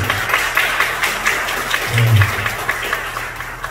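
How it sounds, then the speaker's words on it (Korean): A crowd at a business meeting claps steadily in a short burst of applause, with a muffled low thump partway through. "박수 한번 부탁드립니다"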